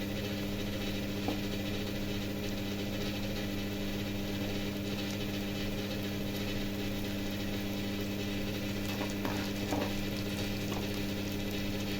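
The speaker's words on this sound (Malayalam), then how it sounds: "നമ്മുടെ ചെമ്മീൻ ഫ്രൈ ഇവിടെ റെഡി ആയിക്കൊണ്ടിരിക്കുകയാണ്" Prawns frying in a pan with curry leaves and chopped coriander, a steady close sizzle and bubble running continuously with faint stirring scrapes, no talk.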